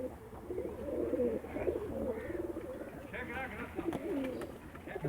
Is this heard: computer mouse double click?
no